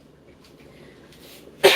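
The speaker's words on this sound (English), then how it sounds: "I just keep coughing because of the smells." A single short cough bursts out near the end after quiet room noise, close and fairly loud, in a kitchen while Ghanaian fish stew is cooking.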